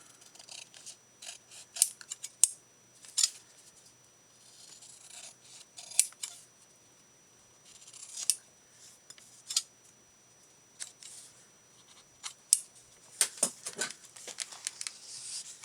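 Scissors snipping and trimming a piece of paper for a craft journal, with sharp intermittent cuts and scraping blade sounds close by, scattered irregularly across a quiet stretch.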